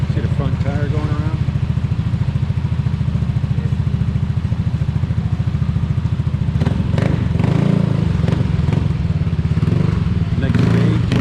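A motorcycle runs steadily as its front tire spins on a test roller during a vehicle inspection, a loud rhythmic engine drone with some clatter, and people talk over it.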